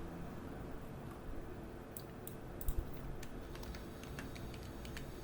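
Light keystrokes on a computer keyboard as text goes into a spreadsheet cell in MS Excel: a short run of soft clicks, quiet and close, over a steady background hiss.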